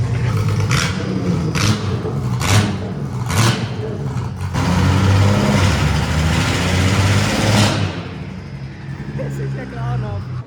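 BMW F80 M3 fitted with a single-turbo kit rumbles loud and rough at cold start with the wastegate open, a steady close drone with bursts and a drop near the end, while someone talks over it.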